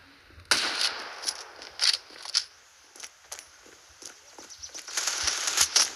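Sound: gunfire from a gun in the video game Standoff 2

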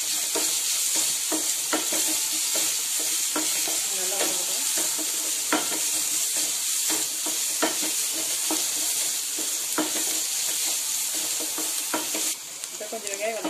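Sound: onions with garlic and green chili sautéing

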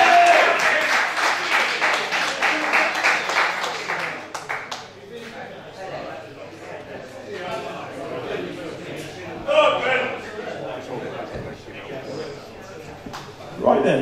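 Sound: round of applause at a press conference

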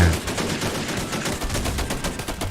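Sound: autocannon fire in the video game BattleRush

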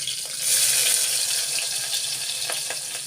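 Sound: chopped onion and chilli frying in a pan

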